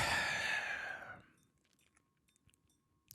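A long drawn-out yawn from a person, loud at first then trailing off after about a second into near silence with faint small clicks.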